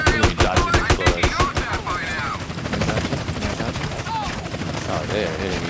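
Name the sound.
gunfire shooting at player in video game GTA San Andreas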